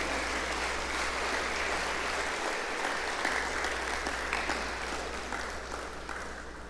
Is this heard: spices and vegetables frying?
no